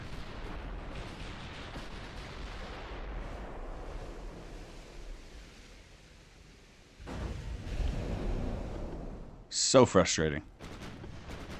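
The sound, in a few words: battleship gunfire from video game Ultimate Admiral: Dreadnoughts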